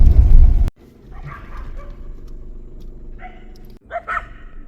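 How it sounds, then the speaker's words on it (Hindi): Several dogs along a forest road near Pilibhit Tiger Reserve bark in short sharp bursts, a loud bark up front, then scattered barks and yips over a quieter background. "रास्ते में बहुत सारे डॉग्स थे, वो भौंक रहे थे एक तरफ को देख के"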